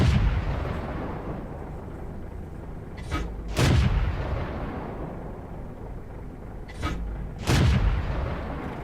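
Incoming artillery in World of Tanks, with a T49 tank destroyer under fire: two paired heavy booms with sharp cracks roughly four seconds apart over a low engine rumble, no talking.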